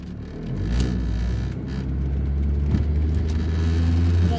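A Saturn car accelerating while driving, a low, steady engine rumble and whir that builds gradually, heard from inside the cabin.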